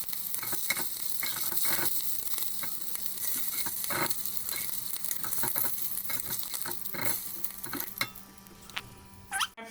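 Prawns frying in hot oil in a pan for prawn biryani, a steady crackling sizzle with frequent spits and stirring clatters, moderately close and without speech.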